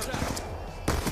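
Two quick pistol gunshots fired back to back in Black Ops II, a sharp double tap cutting through steady game noise with a voice talking over it.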